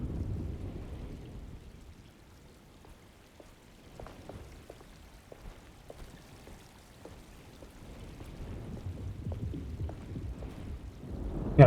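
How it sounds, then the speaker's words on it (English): Steady rain with faint thunder in the Alone in the Dark video game, a soft wash of falling water dotted with light drips and low rumbles that swell toward the end. "Just keeping an eye out for the storm."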